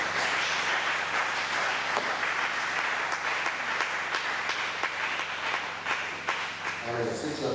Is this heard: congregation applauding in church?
yes